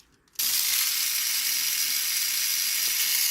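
A Mini 4WD MA chassis drivetrain, freshly oiled at the gears, spins up abruptly and runs as a steady, close, high whirring buzz with a fine gritty texture.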